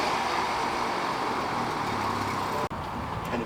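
BMW M235i with a catless VRSF N55 downpipe running with a loud, steady exhaust drone close by, broken by a brief sharp dropout before the rumble resumes.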